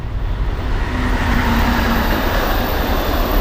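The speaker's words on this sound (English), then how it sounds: "And the freight's moving again" A freight train rolls past close by beside a Metrolink station, giving a loud, steady rumble of wheels and cars that holds unbroken throughout with no talking.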